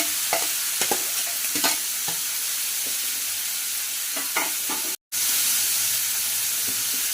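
Tomato pieces frying in a pan for capsicum curry, a close, steady sizzle broken by scraping stirs, with a brief dropout just past the midpoint before the sizzle resumes, with no talking.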